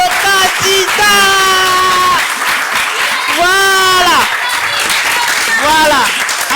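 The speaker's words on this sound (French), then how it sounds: "Est-ce qu'on peut applaudir très très très fort pour le candidat?" Applause and cheering for a contestant at a live challenge event, a loud crowd with loud vocal whoops and shouts rising and falling over the clapping.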